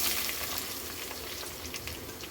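Sliced onions and green chillies fry in hot oil for a chicken curry, giving a soft, even crackling sizzle that stays close and constant for a couple of seconds, with no talking.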